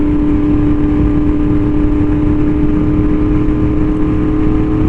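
Steady, close engine hum from a Yamaha R1M motorcycle fitted with an SC Project exhaust, cruising at about 50 mph, with a constant drone and wind noise and no change in pitch.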